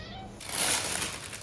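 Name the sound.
cat meowing in the background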